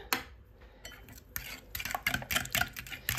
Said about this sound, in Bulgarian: И продължавам да разбъркам